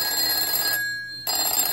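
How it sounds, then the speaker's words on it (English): An old-school telephone bell rigged as a doorbell rings loudly and continuously as its hammer strikes left and right, with a brief dip in the ringing midway before it resumes. "you can see the bell ringing, the hammer going left and right"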